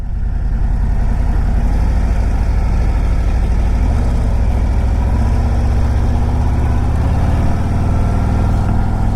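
A 2025 Harley-Davidson Road Glide motorcycle engine rumbles steadily while riding, a loud, continuous low-pitched drone with a throbbing pulse and wind noise, no voices over it.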